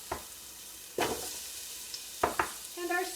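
Onions, carrots and celery being stirred in a Dutch oven, with a few short scraping and clattering strokes separated by pauses over a soft, steady sizzle.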